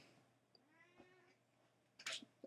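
A faint, quiet cat meow in a hushed room, followed by a brief louder rustle or clatter near the end.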